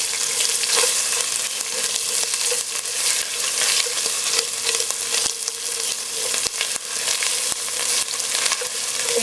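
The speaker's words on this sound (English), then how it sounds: "I love to cook my tomato paste in the olive oil until it gets nice and dark" Tomato paste frying in olive oil in a pan for curried corn, a dense continuous sizzle with occasional sharp clicks of a utensil against the pan, close and steady, no voices.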